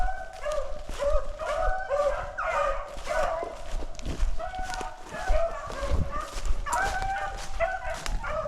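Several dogs bark repeatedly at a moderate distance during a chase, mixed with clucking and crowing fowl, a busy, continuous outdoor racket with no pauses.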